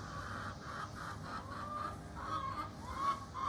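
Ducks quack outside a home near a bird house. The calls are faint, come in repeated short bursts, and sit over a low background hum with no talking.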